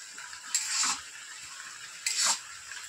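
Semolina halwa with grated coconut is stirred in a pan, giving two soft scraping strokes over a steady faint sizzle, close and quiet with no voices.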